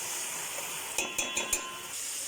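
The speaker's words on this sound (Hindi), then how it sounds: "मैं टमाटरों को इसी ऑयल के अंदर पकाती जा रही हूँ।" Tomatoes cook in hot oil in a pot with turmeric, salt and chili, giving a steady close sizzle with a few brief stirring scrapes near the middle.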